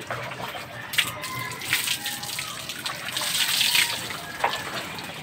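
Water splashing and running while a dog is bathed, a steady rushing pour with intermittent splashes close by, and a voice speaking over it.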